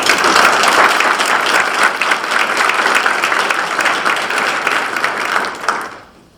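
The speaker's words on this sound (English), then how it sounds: "Let's give her a round of applause." A military change of command ceremony audience gives a sustained round of applause, dense and loud from many hands, holding steady for several seconds before fading out quickly at the end.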